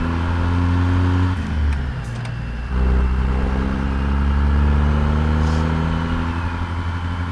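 Peterbilt truck running a tuned 800 HP Cat C16 through 8-inch straight pipes pulls hard nearby, a deep loud exhaust roar that drops off briefly, then builds again in a long rising surge.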